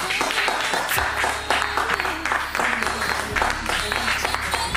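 A church congregation applauding and cheering in acclamation during a service, dense continuous clapping mixed with shouts and voices, loud and close over a low sustained organ or keyboard tone.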